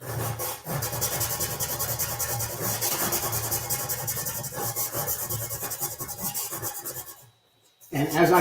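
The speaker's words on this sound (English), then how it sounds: "as I sand down from 180, 240, 320, it's going to get shinier" Continuous close rasping of sandpaper worked back and forth across a metal motorcycle fuel tank, rough and steady, then a brief pause before the scraping starts again.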